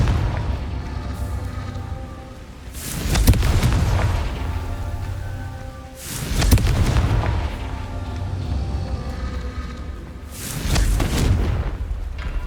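Three heavy blasting-spell explosions from the Confringo charm in Hogwarts Legacy, each a loud booming burst about three seconds apart, with rumbling tails fading over a steady low background hum.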